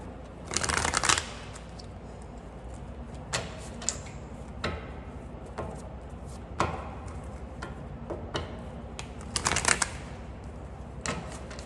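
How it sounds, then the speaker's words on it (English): Tarot cards being shuffled in quick riffling bursts, close by, with pauses and soft tapping in between; no talking. "Let me shuffle."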